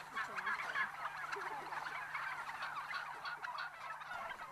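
Free-range turkeys gobble outdoors on a farm, a dense flock chorus of rapid warbling calls overlapping continuously at moderate distance with no talk.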